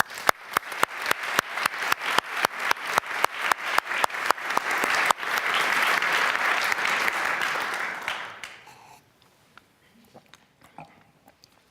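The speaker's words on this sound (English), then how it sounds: "Please join me in applauding Professor Orazio Attanasio." Applause at an awards keynote event. A steady series of single, regular claps opens it and swells into a full roar of audience clapping, which then fades away into a few scattered claps.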